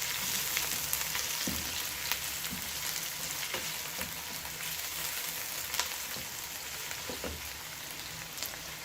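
Onions fry steadily in a hot pan for chicken biryani, a dense, continuous crackle with occasional sharper pops and no voices.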